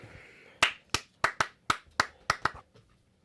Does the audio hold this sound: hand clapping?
yes